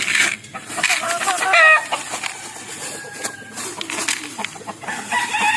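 Backyard chickens, including hens, clucking while being fed a bought feed mix, with dense close squawks and calls and a voice talking over them.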